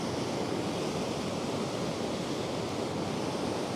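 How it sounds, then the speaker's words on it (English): A Hebridean river fed by large lochs rushes steadily, a broad continuous wash of flowing water, loud and close with no breaks, alone without voices. "Just an amazing river, this."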